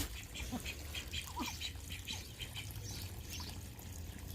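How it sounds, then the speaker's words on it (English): Several ducks quack in short, scattered calls at a morning feeding, faint against a constant background of trickling, pouring water. "The duckies are jealous. They want water too."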